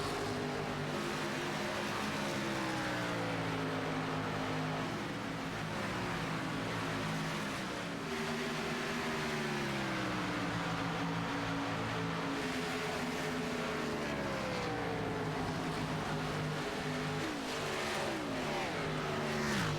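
Race cars circling a circuit with a full field of 32 still running, several engines overlapping in steady loud high-pitched drones whose pitch rises and falls as they pass and change gear, continuous for the whole stretch.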